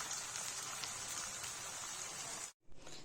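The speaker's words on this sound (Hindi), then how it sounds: "बाजार जैसा एकदम आलू चिप्स फ्राई करेंगे गाइस" Potato finger chips frying in hot oil, giving a dense, steady crackling hiss that runs continuously before a brief cut-out and resumes near the end.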